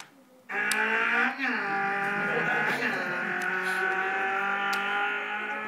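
A man imitates a Ferrari revving with his voice, a loud sustained nasal engine drone with a bright layered harmonic buzz. It holds steady for about five seconds with small pitch shifts, alone and close.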